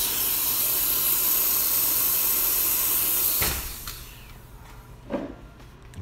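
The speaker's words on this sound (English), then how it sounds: "So you can see we have really powerful steam pressure." Steam wand on a Bezzera espresso machine hisses loudly and steadily at high pressure, then cuts off abruptly, leaving a faint hum and a few small clicks.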